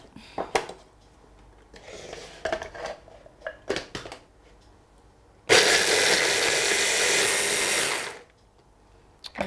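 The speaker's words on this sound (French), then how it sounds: "on va le hacher à la machine, ça ira plus vite aussi" An electric food processor chops an onion for a beef-cheek hachis parmentier in a home kitchen, running in one loud, steady whirring burst of about two and a half seconds, with scattered kitchen clatter and handling noises before it.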